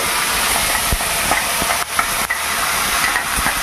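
Gravy for an egg curry hits hot oil in a pan, making a loud, steady, close sizzle with occasional soft stirring knocks underneath.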